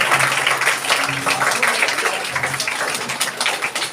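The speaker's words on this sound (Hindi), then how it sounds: "जोरदार तालियों से स्वागत कीजिए।" A crowd at a school annual prize distribution claps in a dense patter that carries on throughout, while a voice speaks over it now and then.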